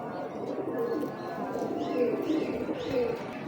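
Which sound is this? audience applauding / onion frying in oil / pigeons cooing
pigeons cooing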